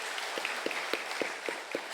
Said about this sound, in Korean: 우리 하나님께 영광과 감사의 박수 힘차게 올려드릴까요?